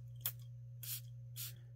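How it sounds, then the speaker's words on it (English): A fragrance bottle's sprayer, a unisex scent from Fragrance One, gives three short, crisp hisses spaced roughly half a second apart, close to the microphone over a low steady hum. "I'm going to spray this on my arm right here and see what I think of it"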